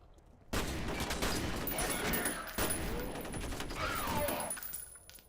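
Enemy shotgun fire in the video game F.E.A.R., with loud blasts and a chaotic burst of combat noise erupting after a brief quiet moment and sustained to the end.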